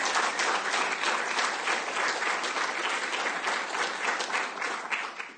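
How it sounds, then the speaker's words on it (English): A closing-ceremony audience breaks into a sustained round of applause, dense and even clapping that holds steady and then tapers off at the end. "Please give them a round of applause."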